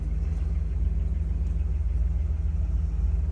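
A 1967 Pontiac GTO V8 idles close by with a steady, low, pulsing rumble and an even beat throughout, and no one speaks over it.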